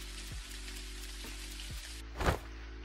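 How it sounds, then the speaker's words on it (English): Steady rain falling in the farming life-sim game Dinkum, a constant broadband hiss with a few soft drop-like ticks and one brief louder burst near the end, no talking. "Oh, she's raining."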